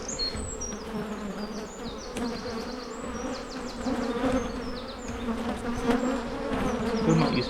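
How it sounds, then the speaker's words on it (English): Honey bees buzz densely around a beekeeper working an open hive, a continuous close hum with many overlapping high individual buzzes swooping past, swelling slightly louder toward the end, no talking. "they're kind of buzzing around my head"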